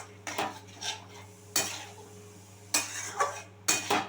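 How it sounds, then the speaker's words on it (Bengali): A spoon scrapes and clinks against a pan while potato curry with yogurt and spices is stirred, with sharp intermittent strokes in an irregular rhythm over a faint background hum, close and fairly loud. "দইটা দিয়ে সমস্ত রকম মশলার সাথে ভালোভাবে আমি মিশিয়ে নিচ্ছি আলুর দমটা"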